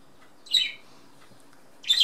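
A pet bird gives two short, bright squawking chirps about a second and a half apart, moderately close in an otherwise quiet room.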